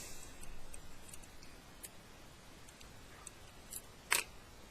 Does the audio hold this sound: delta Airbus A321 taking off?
no